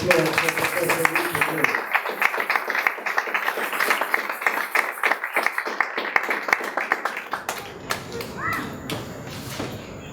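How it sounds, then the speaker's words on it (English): An audience at a book launch applauds a speaker with steady, dense clapping that continues for several seconds and thins toward the end, under brief talk at the start. "Let's give a round of applause for Professor Rupert Lewis"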